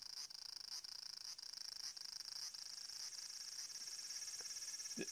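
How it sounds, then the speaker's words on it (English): Cicadas in peak summer heat, a continuous high buzzing drone with a regular pulsing rhythm, steady and fairly faint, alone without talk. "The cicadas are singing loudly, which is normal for this time of year."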